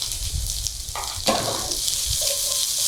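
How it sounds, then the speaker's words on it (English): Onions in hot oil in a pan give a broad, steady frying sizzle that swells as they land and keeps crackling softly throughout, with no talk. "When these onions hit that pan, we're gonna get a nice hard sizzle."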